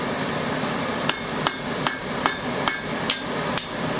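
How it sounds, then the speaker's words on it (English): Hammer striking a forged metal loop to straighten it, eight sharp metallic blows at a steady, slightly quickening rhythm, ringing clearly above a low background hum with no talk. "And just use a hammer to straighten the whole thing out."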